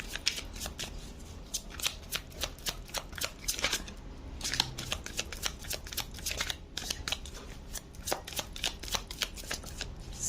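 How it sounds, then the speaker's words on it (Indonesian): Playing cards pulled out and shuffled, a rapid run of crisp riffling flicks and snaps repeating close up for several seconds with no talking. "Di sini kita keluarkan beberapa kartu."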